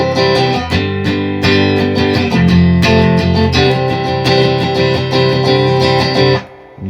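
A guitar riff played with hammer-ons, a steady strummed rhythm with repeated note attacks, loud and close with no talking, ending with the notes dying away.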